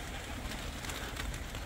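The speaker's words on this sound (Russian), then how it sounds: "Вон и голуби из-за этого вот меня видят с ведром." Pigeons coo softly and continuously, waiting to be fed beside a person carrying a bucket. The cooing is mixed with a steady rustling wash of outdoor noise, and no one speaks.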